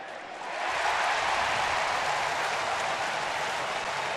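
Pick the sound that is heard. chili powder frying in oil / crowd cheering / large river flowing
crowd cheering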